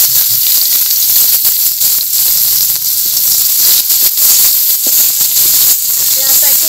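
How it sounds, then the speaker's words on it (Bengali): Chopped onions fry in hot oil in a pan with a loud, continuous sizzling hiss and light crackle throughout, close and steady, with some background voice activity. "তেল দিয়ে দিলাম, পেঁয়াজ কুচি,"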